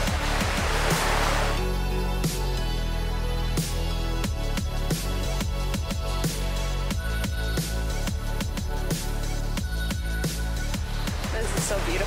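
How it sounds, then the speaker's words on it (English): A waterfall's constant broadband roar, loud and unbroken throughout, with sharp footstep-like knocks and clatter on top. "I can hear the waterfalls now."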